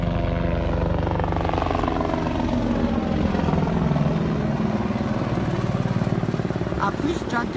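A helicopter flies nearby at a Rally Legend event, its rotor chopping loudly and steadily while someone talks over it.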